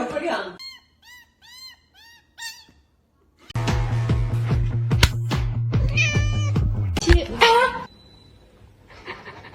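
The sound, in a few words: cat meowing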